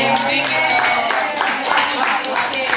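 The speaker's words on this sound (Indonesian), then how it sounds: "Tepuk tangan dulu." Classroom audience clapping on request at a teacher training session, a dense steady patter of many hands lasting a few seconds, with voices and tonal sound mixed underneath.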